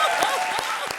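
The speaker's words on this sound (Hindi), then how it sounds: "जोरदार तालियां बजाओ" Loud audience applause at a Hindi comedy show with the Comedy Circus cast, a dense steady wash of many hands clapping with a few sharper claps standing out.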